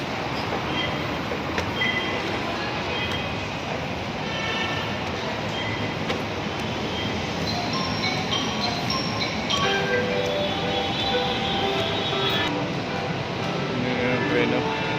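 An LRT train rumbles at a station, a steady mechanical roar with faint squeals and clanks in an echoing platform setting, heard throughout at moderate loudness.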